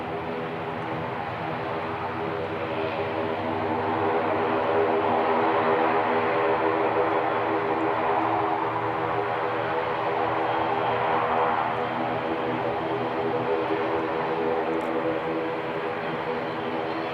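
De Havilland Dash 8 turboprop at Christchurch Airport, a steady propeller drone with layered humming tones that swells to a peak midway and eases back, heard alone without talk.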